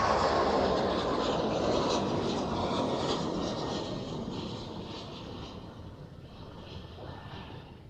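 Boeing 737 MAX 8 at Amsterdam Schiphol airport, its engine rumble and hiss strongest at first, then slowly fading as the jet moves off.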